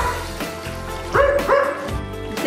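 A dog barks and yips a few times over a steady background hum, with short bright yelps close to the listener.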